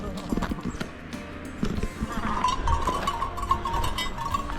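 Small sheep bells clank irregularly amid scattered clattering, with people talking nearby and a faint ringing tone in the background, in the town of Skjolden, Norway.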